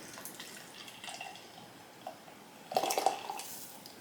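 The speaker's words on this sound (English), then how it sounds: "let's pour you a beer" Triple Sunshine IPA poured into a glass, a soft steady splash that swells into a louder gurgling burst near the end, close and quiet.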